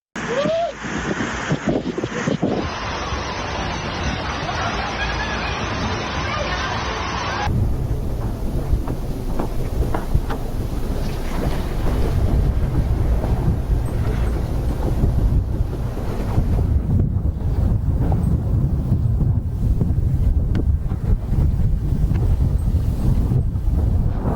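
Strong winds blow violently, a loud, continuous roar of gusting air buffeting the microphone, with a rushing, surf-like wash running underneath throughout.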